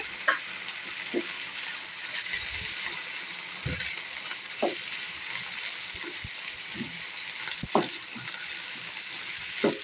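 Ground coconut, ginger and green chili paste frying in oil for a potato tomato masala curry, a soft steady sizzle broken by the occasional clink and scrape of a stirring spoon, close and without talk.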